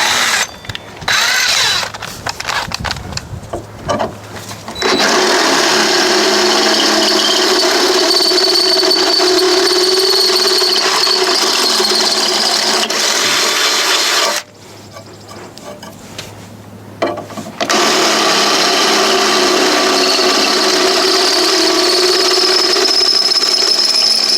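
A power drill with a 1/2 inch bit drives 1/2 inch bolts on a side step for a Kioti CK series tractor, whirring loudly and continuously up close in long runs, broken by two brief pauses.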